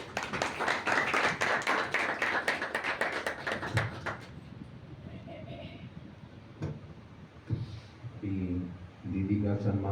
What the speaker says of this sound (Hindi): सभी तालियां बजाते रहेंगे